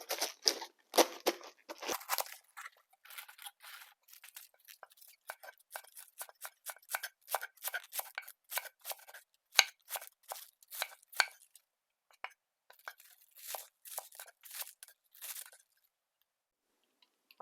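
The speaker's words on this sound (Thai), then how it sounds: "หั่นกระหล่ำ" A knife chops cabbage on a board for a spicy beef salad with lime and wild kale, in a long run of quick, crisp, close strikes with short pauses and no talk.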